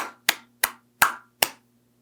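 Five sharp, separate hand claps from one person, evenly spaced and close, each ringing briefly before silence.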